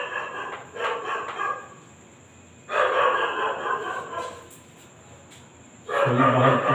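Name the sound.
dog barking outside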